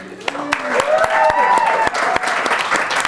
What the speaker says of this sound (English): we don't have to clap